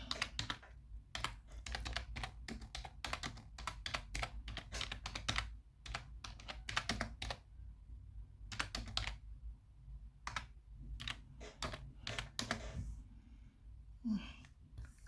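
Quiet, close typing on a computer keyboard in irregular bursts of key clicks with short pauses, alone in a calm room.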